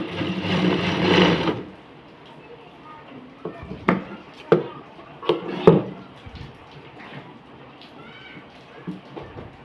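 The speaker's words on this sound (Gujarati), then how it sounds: "આપણે એ પટ્ટી ઉપર ક્રોસમાં સિલાઈ મારી એ પટ્ટીને સીધી કરવાની છે" Sewing machine stitching across a blouse strip, a fast dense whirr at the start, followed by quieter handling clicks and knocks of fabric and tools nearby.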